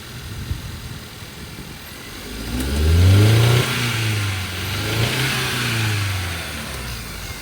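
A jump-started car engine runs close by at a police auction, rising into a brief rev around the middle before settling to a steady moving hum.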